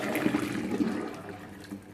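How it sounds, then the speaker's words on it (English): Cooking water from a pot of boiled rice is poured out into a kitchen sink, a steady gushing splash of liquid that runs for about two seconds, close by with no talking. "empty the water into the sink,"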